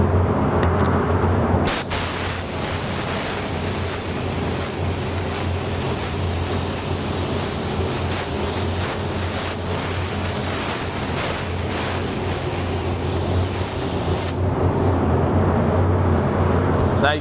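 A spray gun lays black paint over red candy coat in one long, loud, steady hiss that starts abruptly, holds for about twelve seconds and then cuts off.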